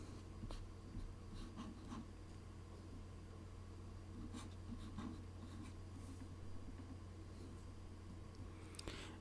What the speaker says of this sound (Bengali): যদি আমি এখন কোনো শব্দ লিখি